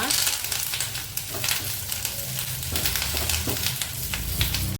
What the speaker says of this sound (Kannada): ಎಣ್ಣೆನಲ್ಲಿ ಫ್ರೈ ಆಗಬೇಕು ಅದು ಸ್ವಲ್ಪ ಹಸಿ ಸ್ಮೆಲ್ಲೆಲ್ಲ ಹೋಗ್ಬೇಕಲ್ಲ ಅಲ್ಲಿ ತನಕ ಫ್ರೈ ಮಾಡ್ಕೊಳ್ಳಿ